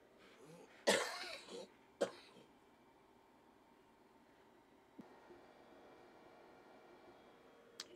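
A man coughs once sharply and loudly near the microphone, followed by a second shorter cough a moment later, then quiet room tone with faint small noises.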